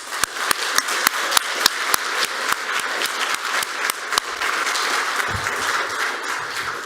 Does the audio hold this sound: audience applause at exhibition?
yes